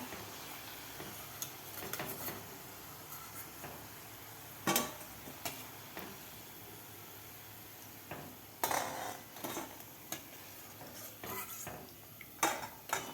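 Fried mung dal shankarpali are lifted out of a pan of hot oil, with sparse metallic clinks and taps of a slotted spoon against the pan over a faint background sizzle.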